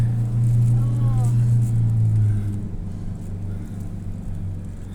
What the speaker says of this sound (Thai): เนี่ยรถบริษัทขึ้นมาฮอดแล้ว